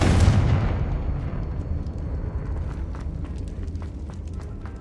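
Confringo blasting spell detonating in the Hogwarts Legacy game, a loud burst at the start that trails into a rumbling decay with small crackles and clicks as it fades.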